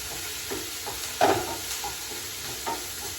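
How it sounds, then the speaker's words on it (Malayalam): Curry leaves and coconut drop into a pan of curry, which sizzles with a steady soft hiss and a few brief stirring scrapes, one sharper splash-like pop near the middle. "ഈ നാളികേര ഇട്ട് കൊടുക്കാം ഈ കറിവേപ്പില ഇട്ട് കൊടുക്കാം"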